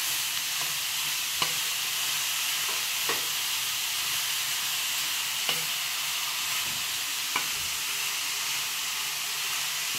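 Grated carrot sautéing in ghee over a low flame for halwa, a steady close hissing sizzle with occasional light taps of a spoon against the pan.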